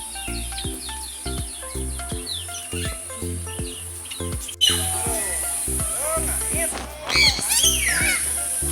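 Many birds chirping and calling at an indoor bird park pavilion in Bandung, steady tweets and whistles with wing flutters, while people talk nearby throughout.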